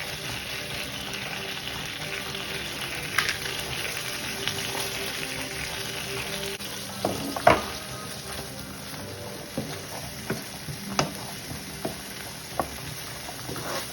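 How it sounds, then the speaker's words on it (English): Onions cook in melted butter in a pan used for steak, giving a low, steady sizzle with occasional taps and scrapes of a utensil; no talking. "put a bit more butter in and then cook the onions"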